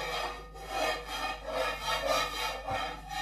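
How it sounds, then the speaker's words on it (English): A utensil scrapes rabbit stew juices around a pan in repeated slow rasping strokes, a close, rough rubbing sound that swells and fades with each pass. "Just scrape that around the pan."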